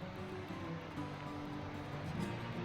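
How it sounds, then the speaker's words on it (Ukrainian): A small stream flows below a rocky riverside fishing spot, giving a steady, continuous rushing wash of water with no pauses and no talk over it. "Знизу протікає потік."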